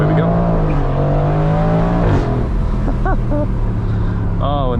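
A 2021 Aston Martin Vantage Roadster pulls away hard under launch control, its loud engine note climbing steadily before dropping at a gear change, then rising again in short bursts, close up with a voice talking over it.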